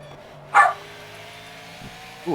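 A dog gives two short, sharp barks about two seconds apart, close by, over a faint steady electronic hum.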